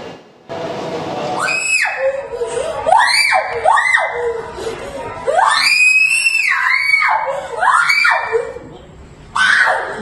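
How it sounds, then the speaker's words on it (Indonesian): A student living in an orphanage in Padang, West Sumatra, screams hysterically in repeated, piercing, drawn-out bursts close by, with other voices and crowd noise between the screams. "seorang pelajar yang merupakan penghuni panti asuhan Darussalam di Kota Padang, Sumatera Barat, berteriak histeris"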